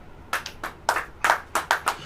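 A church congregation claps hands in a sermon setting, seven or eight distinct sharp bursts arriving in loose, uneven succession, moderately close and clear with no talk over them.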